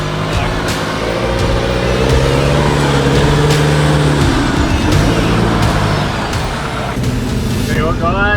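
A solid-axle Toyota Prado engine revving and straining as it reverses on an off-road track, a loud, close, continuous drone that rises and falls, with a voice talking over it.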